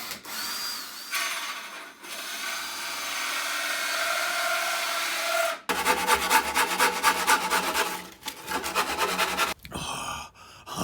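Wood cladding for a campervan ceiling is cut with a power tool, a steady whine giving way to a harsher, rapidly pulsing cutting buzz in close bursts with brief pauses between.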